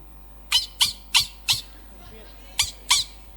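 A voice lets out six sharp, high yelps in quick bursts, a pause before the last two, imitating a dog crying out in pain.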